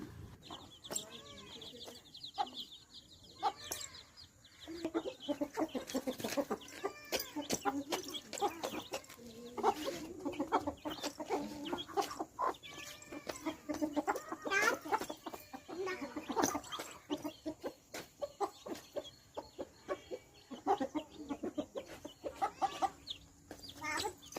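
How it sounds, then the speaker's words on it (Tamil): Chickens and chicks at a family poultry yard cluck and peep busily throughout, a dense mix of close, overlapping calls from a resting flock, with occasional louder clucks rising over the steady chatter. "எல்லா குஞ்சுகளும் இந்த இடத்துல வந்து உட்காந்துருக்காங்க."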